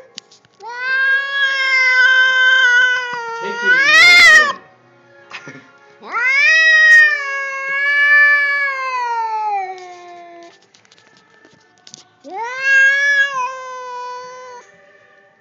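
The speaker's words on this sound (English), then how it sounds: "What a fat cat." A cat meows and caterwauls in long, loud, drawn-out wails, three separate yowls with pauses between them and a brief harsh burst partway through.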